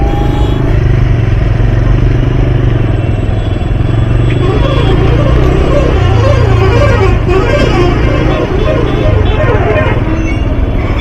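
Loud, close motorcycle engine drones steadily while riding along a road in Dhulagori lined with empty trucks, with traffic noise around and voices talking over it.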